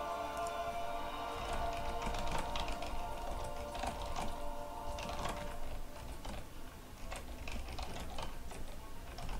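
Irregular clicking of keys on a computer keyboard while someone types during a game session, moderately close, with scattered taps over a faint steady hum.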